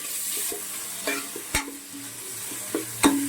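Ginger garlic paste frying in a pan for carrot rice, a steady soft sizzle with a few sharp scrapes and clinks of a spoon stirring against the metal.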